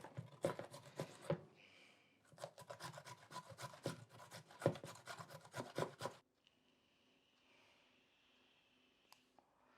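Carrot scraped against a grater in fast, close, rasping strokes, two bursts separated by a brief pause, then quiet.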